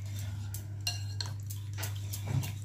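Thick yogurt is mixed in a bowl for a cake, a spoon scraping and clinking against the sides in quick soft strokes over a steady low hum.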